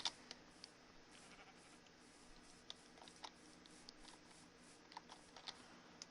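Sheep bleating in the Minecraft FTB Ultimate video game, a few short faint bleats over quiet clicking that sounds like keyboard typing.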